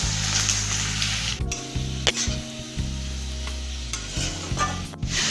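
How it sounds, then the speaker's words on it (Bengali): Chopped onions sizzling in mustard oil in a pan while being stirred for a chicken biryani, a steady close frying hiss with scraping stirs and clatter, no voices. "পেঁয়াজটাকে আমি লাল করে ভেজে নেব।"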